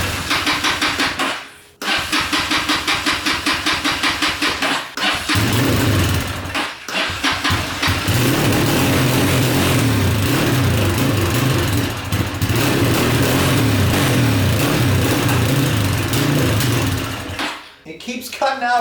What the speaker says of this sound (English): Let's see if we can get the dirt bike started.